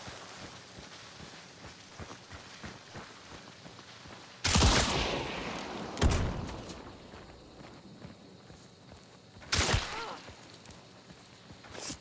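Gunfire in Hunt: Showdown: two loud, sharp blasts several seconds apart and a fainter shot between them, over quiet footsteps and ambient game sound, with no talk.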